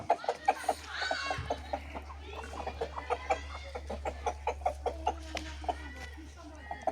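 Chickens cluck in a steady run of short, repeated calls over a low constant hum, close by, with a voice briefly audible among them; a backyard flock kept at home and fed on grass.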